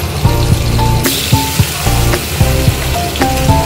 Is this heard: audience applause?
no